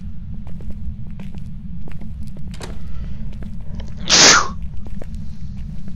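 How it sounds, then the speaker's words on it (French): A single sharp sneeze bursts out midway through a quiet indoor scene of the Phasmophobia ghost-hunting game, over a low steady hum with scattered faint knocks and footsteps. "Bah j'ai éternué."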